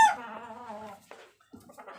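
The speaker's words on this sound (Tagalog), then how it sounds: "Pasensya na po kayo sa mga manok ko." A chicken lets out a drawn-out crowing call close by, followed by a few short clucks.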